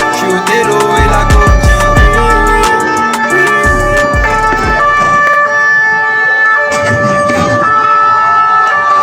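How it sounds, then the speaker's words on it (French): Emergency sirens wail loudly near a street protest in France, with steady tonal siren lines over heavy rumbling street noise that drops away halfway through, leaving the sirens sounding on alone. "Les sirènes derrière moi font."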